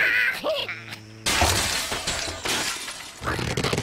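Glass shattering in the Angry Birds video game, several bright crashing breaks in quick succession over game sounds, loud and dense, with no talk over it.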